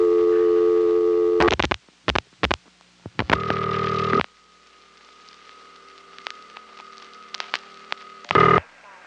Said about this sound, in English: the recording would play only once, and then you would get a fast busy signal